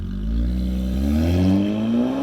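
Nissan Z Proto fitted with the Infiniti Q50 Red Sport 400 engine pulling away, a close, steady engine note rising in pitch as the car accelerates, with a brief dip near one second.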